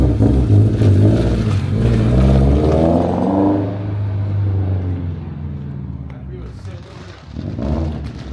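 Subaru BRZ with a loud aftermarket exhaust revs up and pulls away, its engine note climbing and then receding into the distance, with voices talking over it.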